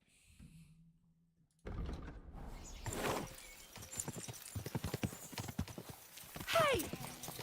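Horse hooves clip-clopping in Kingdom Come: Deliverance II, a rapid run of distinct hoof strikes after a quiet start, with a neigh and game ambience around them.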